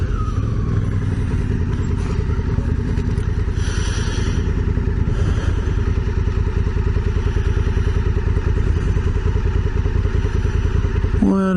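Adventure motorcycles, a Yamaha T7 and a Honda Africa Twin, ride a trail in the Scenic Rim, their engines chugging steadily and loudly throughout, with rattles and thumps from the rough ground.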